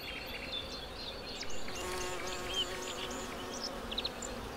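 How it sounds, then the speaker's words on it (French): Honeybees buzz around wild rose flowers, a dense, close swarm of wavering insect drones rising and falling in pitch, steady throughout with no voices. "Parmi eux, l'abeille domestique, qui n'est autre que la cousine du bourdon."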